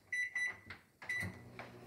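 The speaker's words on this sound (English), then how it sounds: "Right into the microwave." A microwave oven starts up with a few beeps and clunks from the door and buttons, then its steady hum begins, heard up close with no talking.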